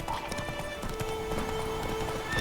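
Roach, a horse in The Witcher 3 video game, clip-clopping hooves with a whinny over continuous game ambience, heard close and fairly steady.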